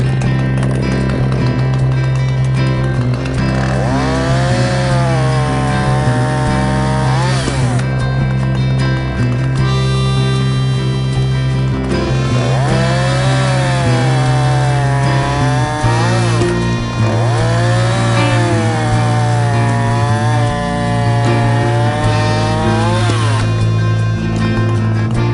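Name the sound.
Husqvarna chainsaw running chain, TrioBrake chain brake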